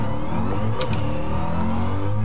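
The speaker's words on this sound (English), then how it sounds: "we're short shifting the crap out of this car" A Ford Shelby GT350R's engine revs under load while being short shifted, a loud, steady mid-pitched drone with harmonic tones that shift as the gear changes, heard up close.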